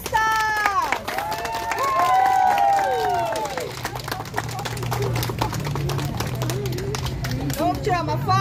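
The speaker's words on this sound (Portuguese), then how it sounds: "Uma salva de palmas para os nossos autistas." An outdoor crowd at an autism awareness walk claps and cheers, with voices shouting and calling out over steady clapping for several seconds, then a quieter murmur of people talking in the open air.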